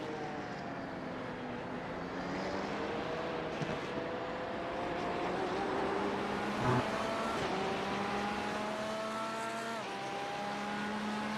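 Race cars in multi-class sim racing on the Nurburgring, engines droning steadily with rising and falling pitch as several cars run close together, with a brief louder burst midway.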